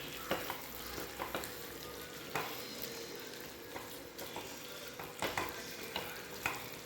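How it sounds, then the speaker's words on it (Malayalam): Pepper chicken sizzles steadily in a hot pan while a spoon stirs it, with repeated soft scraping knocks over the constant frying hiss. "രണ്ട് മിനിറ്റും കൂടി ഇളക്കിയതിന് ശേഷം നമുക്ക് ഓഫ് ചെയ്യാം"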